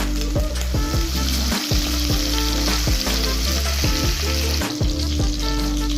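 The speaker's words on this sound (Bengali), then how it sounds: "এবার আমি চিকেনগুলো দিয়ে দিচ্ছি। লো ফ্লেমে রাখবো, ডিপ ফ্রাই করবো না।" Chicken pieces fry in olive oil in a pan over a low flame, producing a loud, constant sizzle and hiss with steady crackle throughout, close by and without talk.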